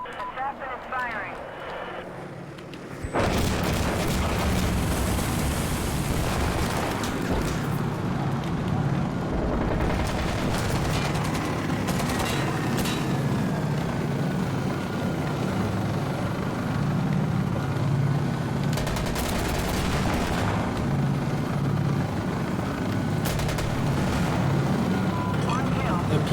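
An assassin unit in a video game fires its weapon in a long, dense barrage, a loud rumbling roar of repeated shots and blasts that runs on steadily for over twenty seconds after a quiet start.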